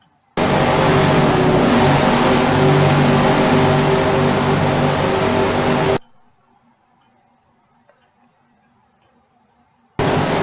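Race car engines roar loudly and steadily as a pack gets the green flag in a Gran Turismo oval race at Kentucky, running for about six seconds, cutting to near silence, then surging back at the end.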